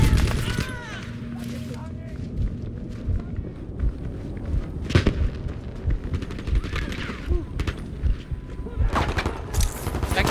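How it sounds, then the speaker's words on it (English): Rifle fire in Battlefield 5 keeps going through a busy battle mix, with sharp shots and rapid bursts over constant rumble and running footsteps, while voices shout now and then. "Firing rifle!"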